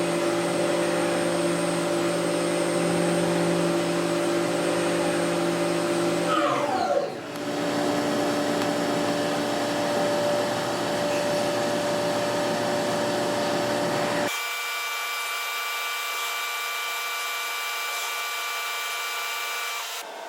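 CNC machine running a machining cycle on stock held by bolted fixtures, a steady whining motor drone with sustained tones that shift pitch partway through and then settle into a quieter, higher hum, continuous and close.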